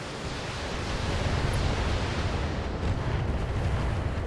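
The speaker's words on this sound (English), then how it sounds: "And just fire some missiles." Missiles fired in a video game make a broad, steady roaring rush of noise that swells slightly after the first second and holds loud and continuous, with no talking.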